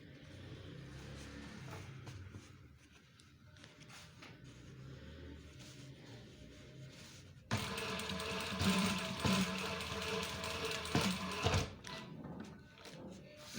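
Sewing machine stitching police uniform trousers, running softly at first with light mechanical clatter, then a louder, steadier whir of stitching from the midpoint onward, close and without speech.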